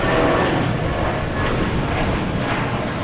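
A JetBlue Airbus A320 jet at Boston Logan airport, bound for JFK, rumbles loudly and steadily close by, a constant broadband engine roar without talk.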